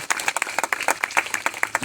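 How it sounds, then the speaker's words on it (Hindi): Congregation at a Christian worship meeting clapping hard, with fast, dense, slightly uneven claps from many hands, loud and close, with no talk over it. "जोरदार परमेश्वर के लिए ताली मारिए"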